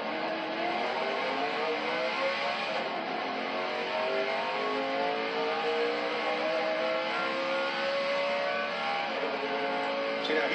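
A NASCAR race car at Daytona 500 practice launches down pit road, its engine screaming to redline and climbing in pitch through repeated upshifts, loud and sustained from an in-car perspective.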